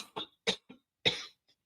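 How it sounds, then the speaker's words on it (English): A short series of dry, close coughs, four or so quick bursts with one stronger cough near the end. "Hold on, I got a cough."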